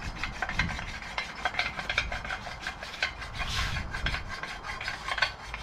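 An oiled stone rubs back and forth across the hydraulic gasket face of a Ferguson T20 tractor, a steady, close, gritty rasping with even strokes throughout.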